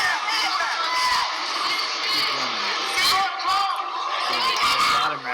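A crowd at a professional fight night roars at a punch landing, loud and excited with shouts and sharp bursts jumping out of the din, while a voice talks over it.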